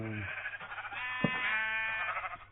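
Sheep bleating in the video game Minecraft, a drawn-out wavering bleat, fairly quiet, over a steady background hum.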